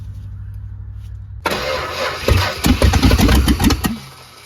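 The 1970 Plymouth Roadrunner 440 big block, run with no exhaust pipes after decades in a barn, catches suddenly from near-quiet, then barks and stumbles through loud, uneven pulses before easing off, close and unmuffled.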